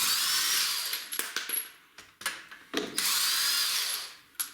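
A power tool spins lug nuts off the wheel of a Toyota Avalon in short, choppy bursts. The whir rises and falls close by, with brief pauses between nuts and a longer run near the end. No one speaks.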